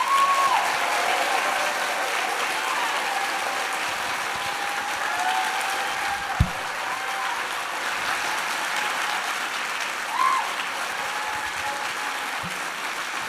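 A college convocation audience applauds at length, a broad, steady roar of many hands clapping with faint crowd murmur throughout.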